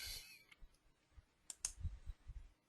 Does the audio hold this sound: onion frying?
no